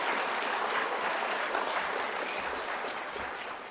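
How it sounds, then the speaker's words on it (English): A crowd gives a big round of applause to students at a reading program event, dense continuous clapping that holds steady then slowly tapers. "let's give those students one more big round of applause"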